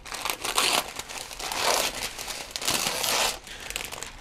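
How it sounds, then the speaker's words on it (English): Aluminum foil is crinkled and crumpled by hand while wrapping guitar binding for bending in steel-string guitar construction. The crackle is steady and close, swelling and easing in bursts, with no talk. "You can use aluminum foil"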